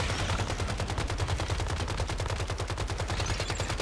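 Rapid automatic AK rifle fire in the shooter game Once Human, a loud continuous burst of evenly spaced shots that hammers on without pause for several seconds.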